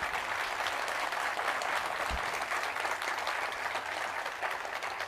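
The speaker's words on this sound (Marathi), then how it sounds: "जोरदार टाळ्या झाल्या पाहिजेत." Studio audience applauding at a Marathi talk show interview, steady dense clapping from a crowd, moderately loud and continuous for several seconds, with no talking.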